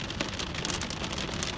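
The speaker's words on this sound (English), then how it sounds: "it's turned to rain again" Steady rain pours down just after a hailstorm, a dense, even hiss of drops on surfaces, loud and close with no voices over it.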